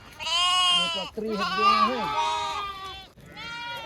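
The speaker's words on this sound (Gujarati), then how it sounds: "ત્રીસેક જેવા ઘેટા છે" Sheep in a village flock of about thirty bleat loudly and close by, three long wavering calls in quick succession.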